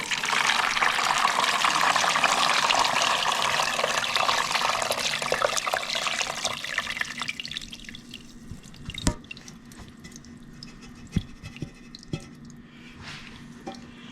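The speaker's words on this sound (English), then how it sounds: "we're gonna go ahead and strain all we only want the juice and stuff, so we're gonna strain everything out" Oxtail cooking liquid pours through a strainer in a steady, loud liquid rush that tapers off into scattered drips and light clinks, with no voices.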